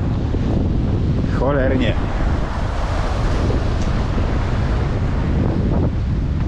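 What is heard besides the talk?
strong wind blowing at a harbour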